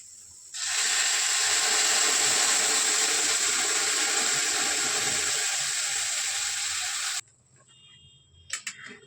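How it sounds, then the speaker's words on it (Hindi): Milk is poured into roasted carrots in a hot pan for carrot halwa, making a steady, loud sizzling hiss that lasts about six seconds and then stops abruptly, followed by faint clicks. "ये दूध मैंने इसमें डाल दिया है।"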